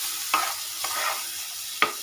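Beans frying in a pan after the water has cooked off, a soft continuous sizzle up close with three distinct scrapes of a spatula stirring, and no voices.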